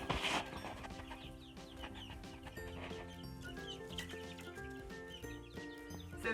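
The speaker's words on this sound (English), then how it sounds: "So there's chickens and guinea hens are the big ones." Chickens and guinea hens cluck and call inside a chicken coop, a dense layered flock chatter that runs steadily throughout, with a louder burst of calls at the very start.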